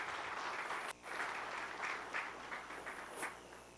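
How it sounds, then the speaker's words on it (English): An audience gives the chief guest a round of applause at a formal event, a steady, moderately faint wash of clapping with a brief dip near the start. "put a round of applause for him."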